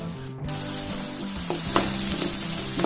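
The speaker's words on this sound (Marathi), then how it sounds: "त्यामध्ये हळद घालायचं एक चमचा त्यामध्ये आता आले लसूण पेस्ट टाकायचं" Ginger garlic paste hits hot oil with fried onion and turmeric in a frying pan, giving a steady close sizzle with a few brief stirring clinks and no talking.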